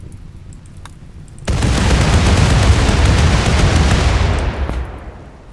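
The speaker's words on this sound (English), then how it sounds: "we just need a fucking explosion" Explosion in the modded colony-building video game Rimworld: a sudden loud blast that cuts in and holds as a dense roaring rumble for about three seconds before tailing off.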